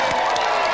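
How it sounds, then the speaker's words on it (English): A brief burst of TV game show studio audience noise, cheering and clapping blending into a dense, loud wash of sound. "let's another round of applause for our 2 special guests today, Cobra and Panther."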